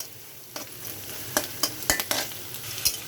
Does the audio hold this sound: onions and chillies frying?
yes